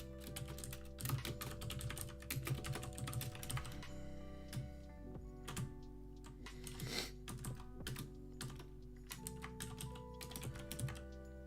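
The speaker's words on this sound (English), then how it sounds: "So I'm typing" Steady typing on a computer keyboard, a continuous stream of close, crisp key clicks with brief pauses over an even room hum, no voices present.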